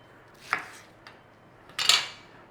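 Knife cutting a sweet pepper into chunks on a board: two sharp chops, a lighter tap between them, then a louder scraping, clattering cut near the end, close and clear with no talk.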